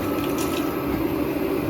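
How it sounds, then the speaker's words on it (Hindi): Washed toor dal and its rinse water pour into a pressure cooker, a steady close splashing, gurgling flow that runs unbroken throughout with no voices. "तोर की दाल को जो है मैं प्रेशर कुकर में कर रही हूँ"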